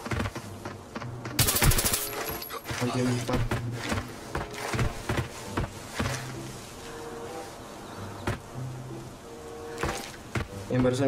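Gunfire in the shooter game Arena Breakout, sharp bursts and single shots scattered across the scene amid other game noises, with someone talking over much of it.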